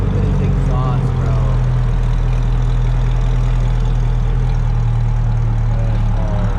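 A Lexus idles at a car meet, its exhaust holding a steady low rumble throughout, with people chatting faintly in the background.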